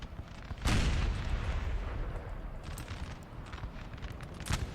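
Musket volleys and artillery fire rumble across a Napoleon: Total War battle over a town, with a dull boom followed by a continuous crackling roar of distant gunfire, fairly faint, and another thud at the end.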